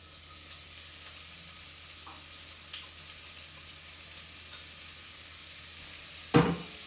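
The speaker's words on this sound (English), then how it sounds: "We're going to go ahead and put the onion in" Chopped onion dropped into hot oil in a pan for chicken pot pie stew gives a steady, gentle hiss of sizzling throughout, ending with a short sharp clatter.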